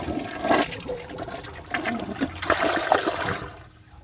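A brand-new Gerber Maxwell wall-mounted toilet with a small trapway flushes a washcloth away, a close, strong rush of swirling water that tapers off after about three and a half seconds.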